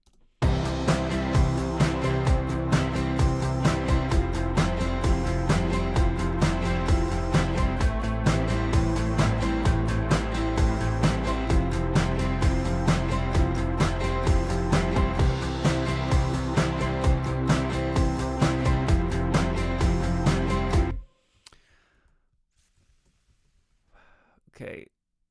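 Beat chorus built from layered drums and a shaker, a dense steady groove playing loud and continuous for about twenty seconds before stopping, followed by a brief faint sound.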